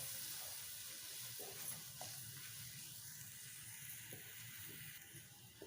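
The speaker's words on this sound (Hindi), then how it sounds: "अभी हम मिर्च को अच्छी तरह जो है ना भून लेते हैं।" Red chili powder and salt sizzling in oil in a pan, a steady soft frying hiss with a few faint stirring scrapes, fairly quiet and unaccompanied by talk.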